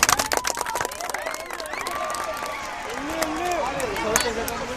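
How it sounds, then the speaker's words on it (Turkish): A brief burst of clapping at the start of a family challenge game, quickly giving way to a lively mix of overlapping chatter and shouting voices. "Kocaman bir alkış."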